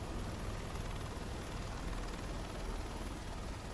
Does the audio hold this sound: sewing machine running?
no